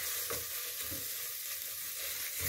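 Tomato paste frying in a pot for a lentil, noodle and vegetable soup, a steady, bright sizzle running throughout, broken by a few soft, low scrapes as it is stirred.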